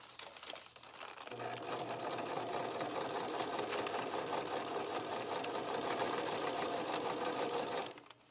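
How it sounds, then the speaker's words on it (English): A sewing machine stitches butter paper onto a junk journal page in a close, steady mechanical whir with rapid needle clatter, running for several seconds before stopping abruptly. "I'm just going to stitch down the sides of this to make a little tuck"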